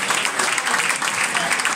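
An audience at a sports event applauds for Roberto Fani, steady dense clapping filling the whole moment with no pauses, loud and close, with no talking over it.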